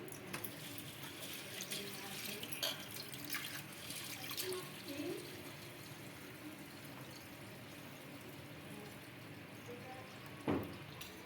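Water runs and splashes into a bowl in a steady stream, with a couple of clinks and a louder splash near the end.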